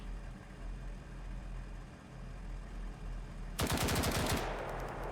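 Machine guns firing in the military shooter game BRM5, a sudden loud burst of rapid automatic shots over a steady low engine-like rumble, cutting in after a few seconds of background noise.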